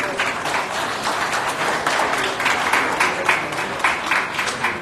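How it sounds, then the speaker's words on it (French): Audience applauding a senator at the inauguration of a southern bus station in Les Cayes, Haiti; steady, dense clapping from a sizable crowd holds throughout at a fairly loud level. "je vous demande d'applaudir le sénateur Église."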